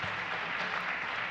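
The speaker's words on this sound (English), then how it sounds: "Jamie, another round of applause" An audience applauds for a performer at a live church or service gathering, a steady wash of claps held at an even level for the whole moment with no voices.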